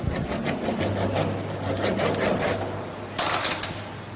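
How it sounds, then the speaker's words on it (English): A hand saw cuts a wooden workpiece down to a marking line for a half lap joint, giving steady rhythmic rasping strokes up close, with a brighter, louder burst of strokes near the end. "So now we can cut the workpiece"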